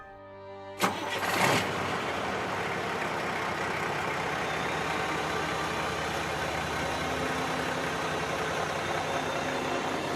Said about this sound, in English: The truck starts.